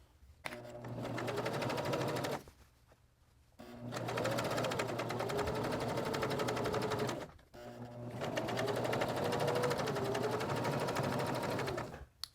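Sewing machine running a seam down a reversible placemat, three long bursts of fast steady stitching close up, separated by brief pauses.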